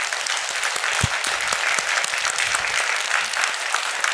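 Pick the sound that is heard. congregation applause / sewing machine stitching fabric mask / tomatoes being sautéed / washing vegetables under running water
congregation applause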